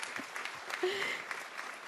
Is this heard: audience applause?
yes